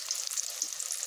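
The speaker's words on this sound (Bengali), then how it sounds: "এবার ম্যারিনেট করে রাখা চিকেনগুলোকে আমি ভেজে নেব।" Marinated chicken frying in hot white oil in a wok for chili chicken, a dense, continuous hiss and crackle heard up close with no talking.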